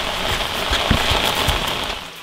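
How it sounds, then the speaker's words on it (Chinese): Heavy rain pours down in a village setting, a loud continuous hiss with scattered sharper drop impacts and crackles spread evenly throughout, with no voices over it. "下那么大雨还搞嘛呀？"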